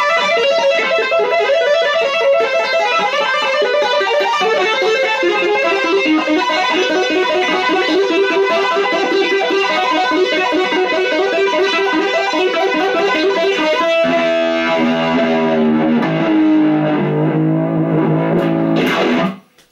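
A heavily distorted electric guitar through a distortion pedal plays a fast, continuous run of notes at high volume, shifting to lower riffs before cutting off abruptly.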